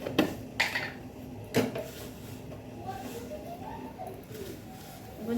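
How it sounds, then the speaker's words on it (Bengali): A metal spoon clinks against a cup while stirring hot water and sugar for tea, a few bright taps spaced apart, then quieter scraping in a calm room. "এখন চামচ দিয়ে এটা ঘুটি চা পাতাটা দিয়ে দিই"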